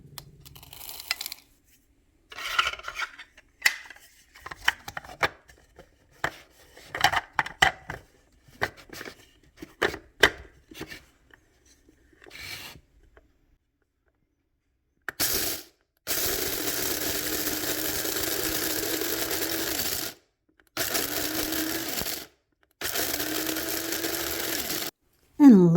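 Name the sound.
coffee grinder grinding corn into cornmeal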